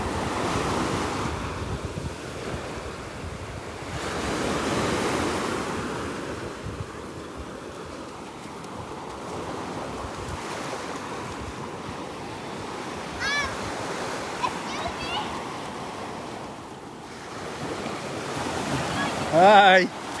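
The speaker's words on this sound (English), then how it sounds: "Listen to those waves." Gulf of Mexico waves breaking on a beach in North Naples, Florida, rolling surf in repeated swells with wind buffeting the microphone and brief faint sounds near the end.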